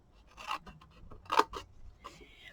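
Scissors snip through paper pieces for a four-tier Mother's Day gift box, giving a few short crisp cuts and rustles, close and quiet with pauses between them.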